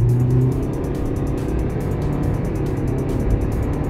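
A Toyota Aqua hybrid with a CVT accelerates at full throttle on a test drive, a steady droning engine and road hum heard from inside the cabin, continuous and moderately loud.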